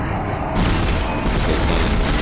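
Gunfire in the sci-fi horror game Dead Space, heard as a loud, dense wall of booming blasts that runs without a break for about two seconds, with no talking over it.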